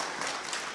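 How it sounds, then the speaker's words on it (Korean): A crowd at a Korean political talk event applauds, a brief, dense wash of clapping that holds steady for under a second. "박수 한번 해주세요."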